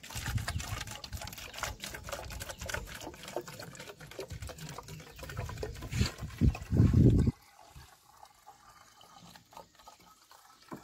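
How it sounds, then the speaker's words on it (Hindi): Water poured into a plastic bottle, the first stage of a homemade water bottle rocket, makes a steady gurgling flow that swells into a louder rush near the end and then stops abruptly, leaving quiet. "अभी हम इस बॉटल के अंदर थोड़ा सा पानी भर लेते हैं पहले"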